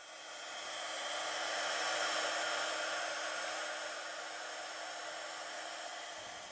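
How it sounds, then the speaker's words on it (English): A heat gun melts embossing powder on a card background, blowing as a steady soft whooshing hiss that swells and then holds evenly for several seconds, close and alone. "So let's just heat this one up"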